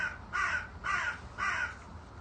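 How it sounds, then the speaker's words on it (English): Three harsh, evenly spaced caws from an agitated crow, each roughly half a second long with short gaps between them, fairly clear against a faint background hiss and with no one speaking. "I can hear an aggro crow, but I can't hear a pigeon."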